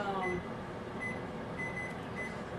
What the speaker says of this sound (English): now we're putting it in the microwave